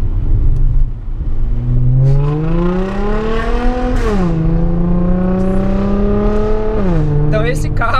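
An Audi A7 3.0 V6T fitted with an Armytrix valved exhaust and APR remap cruises along a street, its engine note climbing and dipping through gear changes in a steady, close drone.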